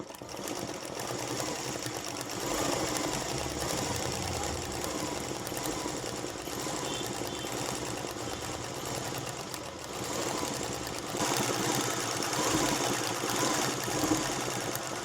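An embroidery sewing machine set to stitch setting 5 runs steadily for the whole stretch, a close, continuous whirring drone with a busy mechanical rattle and no talking.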